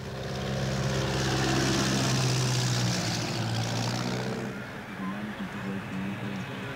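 A propeller aircraft at a fly-in breakfast in Kamloops in the Canadian Rockies drones loudly nearby, its engine tone steady then easing as it passes, with a voice talking over it.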